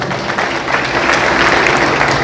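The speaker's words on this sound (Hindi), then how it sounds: "तालियों के साथ" Audience applause at a BJP party workers' meeting in Ambala Cantonment, a steady, dense crowd clapping that holds loud and even and swells slightly toward the end.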